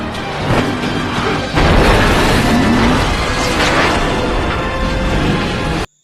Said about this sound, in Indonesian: malah hanya mobil John saja yang jatuh ke dalam dan meledak